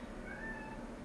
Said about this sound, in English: You can hear my son screaming outside. He's not my actual human son, but like he's a cat and he's just angry.